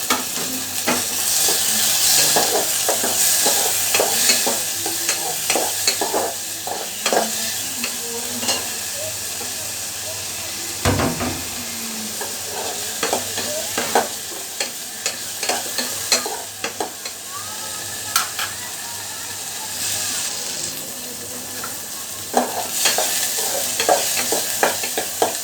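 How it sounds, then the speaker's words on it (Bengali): Onions fry and sizzle in a pan with steady hiss while a utensil stirs and scrapes, with a clatter midway as tomatoes are added, then more stirring and frying. "এই যে দেখতে পাচ্ছ আমার পেঁয়াজটা বেশ ভাজা ভাজা হয়ে এসেছে, আর বেশি ভাজা যাবে না। এবার আমি এটাতে টমেটোগুলো দিয়ে দিচ্ছি।"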